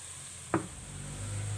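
Flour roasting in a pot for onion soup gives a soft, faint sizzle with a single quick scrape of a spoon partway through.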